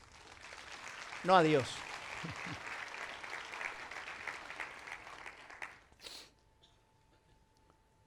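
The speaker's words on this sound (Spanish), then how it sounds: "Denme un fuerte aplauso a mí" Church congregation applauding during a Spanish-language sermon, a moderate spread of clapping under a voice, tailing off to near quiet at the end.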